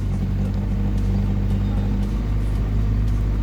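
A cold IZh 2717 fitted with a fuel-injected VAZ 2103 engine idles roughly on a freezing day, a steady low rumble with faint uneven beats, close and loud throughout.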